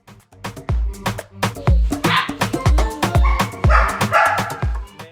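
Several Boerboel puppies bark and yip in quick, overlapping bursts, close by and loud, with a steady busy rhythm throughout.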